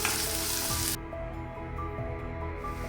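Onion, red chilli and curry leaves sizzle loudly in a hot oil tadka, a dense steady frying hiss that drops slightly after the first second, with occasional faint stirring clinks.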